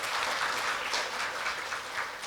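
A lecture audience at a Korea University leader lecture series applauds the lecturer, Professor Seo, in a steady wash of clapping that fills the room evenly for the whole stretch with no break or talk.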